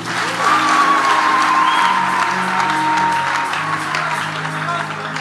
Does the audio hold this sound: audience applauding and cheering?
yes